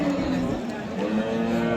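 A cow lows at a busy Namangan cattle market in Uzbekistan, a sustained close moo rising over steady crowd murmur and livestock bustle for the whole stretch.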